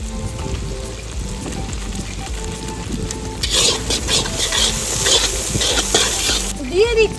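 Duck curry sizzles in a pan as chili powder is stirred in, with a quiet frying hiss that bursts into louder scraping, crackling stirring midway before settling back, while a voice talks over it.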